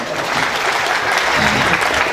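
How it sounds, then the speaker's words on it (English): Congregation clapping at a church service, a loud continuous patter of many hands with faint voices mixed in underneath. "Clap for Jesus."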